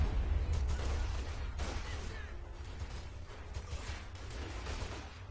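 Battle din from Company of Heroes 2 with continuous low rumble of gunfire and explosions, a broadband burst near the start and again around the middle, sustained and fairly loud throughout.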